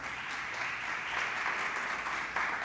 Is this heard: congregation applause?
yes